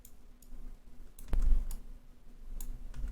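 A single key press on a computer keyboard, the X key, gives one crisp click close to the mic, with a faint low hum and quiet room noise around it.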